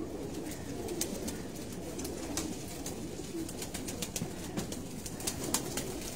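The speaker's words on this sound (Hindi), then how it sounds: "कमाल के कबूतर हैं जी माशाल्लाह," Pigeons coo steadily in a low, murmuring chorus in Lyari, Karachi, with occasional sharper chirps and a faint flutter of wings close by.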